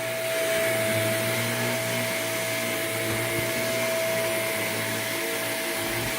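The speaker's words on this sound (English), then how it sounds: "He's so afraid of the vacuum cleaner." Household vacuum cleaner running steadily, close and loud, with a constant whining motor drone throughout.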